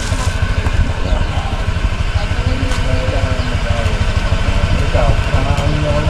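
A motorcycle engine idles close by with a steady low rumble and vibration that holds evenly throughout.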